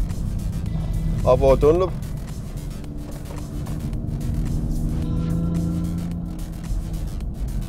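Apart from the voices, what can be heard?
Toyota Supra racing at full speed at Le Mans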